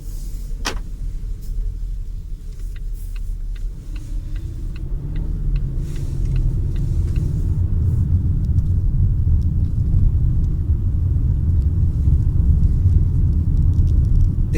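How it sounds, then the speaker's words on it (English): Steady low engine rumble and road noise from inside a moving 2018 Volvo XC40 compact SUV, a continuous hum that builds slightly and holds for the whole stretch. "let's go have a test drive in the new Volvo XC40 compact SUV 2018"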